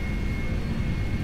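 Jet engines of a PMDG 747-400 spooling at full takeoff power in the Prepar3D flight simulator, a dense, even roar with a thin steady whine above it, loud and unbroken over its brief span.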